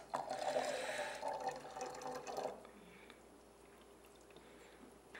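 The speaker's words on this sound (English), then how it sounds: "now we can go ahead and top off a bit more of our water." Water poured into a one-gallon jug to top off homemade mead, a steady splashing pour lasting about two and a half seconds before stopping, leaving quiet room tone.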